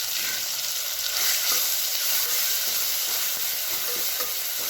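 Curry leaves and ground spice paste sizzle and fry steadily in a hot pan for a Maharashtrian Bhogichi bhaji, a continuous loud hiss with light crackle throughout.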